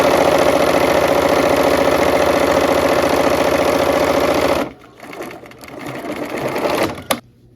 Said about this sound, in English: now we're gonna sew 2 of these sections of 4 together